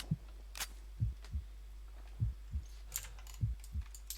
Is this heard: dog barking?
no